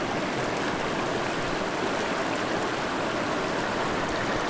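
A brook trout stream flowing steadily, its water rushing close and loud as an unbroken broadband wash of burbling with no pauses and no voices.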